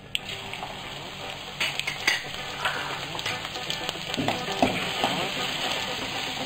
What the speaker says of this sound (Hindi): हम अच्छे से भून लेंगे इसको।